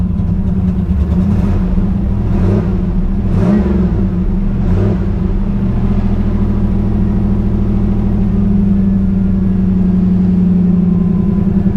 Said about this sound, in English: See if I can get it to idle. It's definitely got a miss.